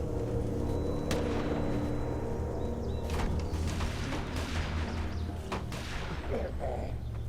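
Scattered booming gunshots and thuds in The Walking Dead video game ring out over a constant dense background rumble, several distinct reports spread across the stretch.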